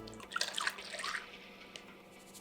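Milk pours into a measuring beaker in a short, faint liquid trickle that swells briefly and then tapers off into quiet.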